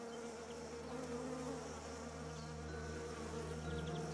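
Honeybees buzzing steadily around flowering fruit trees in an orchard, a dense continuous hum of many insects close by, with no talking.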